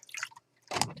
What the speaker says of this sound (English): Clean my brush out.